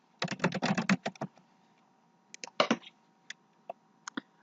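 Typing names into a content editor on a computer keyboard: a fast burst of close key clicks, a pause, then another cluster and a few scattered single taps.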